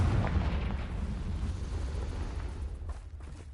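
Confringo fire spell blasting in Hogwarts Legacy, a dense, rumbling explosive burst that stays loud and roiling for several seconds before tapering slightly at the end.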